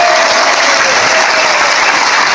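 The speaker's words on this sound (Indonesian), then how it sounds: "Tepuk tangan dhisik" Loud, dense audience applause at a live outdoor Islamic sermon gathering in Sawangan, Magelang, a continuous close wash of clapping with no pauses.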